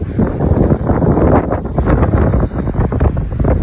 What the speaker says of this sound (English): you listening to beautiful sound of the ocean